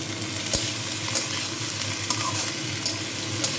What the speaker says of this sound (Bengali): দিয়ে নাড়ছি, ভালো করে নাড়বো।